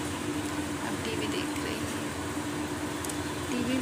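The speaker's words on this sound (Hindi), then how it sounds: "क्योंकि मैं पंखा चला रही हूँ और बहुत गर्मी हो रही है" An electric fan runs indoors on a hot day, giving a steady, even whirring hum with a faint low tone that holds throughout.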